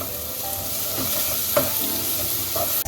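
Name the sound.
onion frying with garlic ginger paste, stirred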